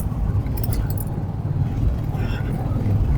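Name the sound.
motorbike engine pulling from low revs in fifth gear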